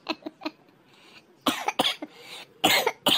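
Several sharp, harsh coughs up close, in irregular bursts, following a few softer throat sounds at the start.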